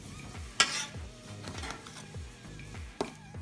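A spoon repeatedly scraping and sloshing through a big plant-based mixture in a bowl, soft rhythmic strokes with a couple of sharp clinks, close and quiet.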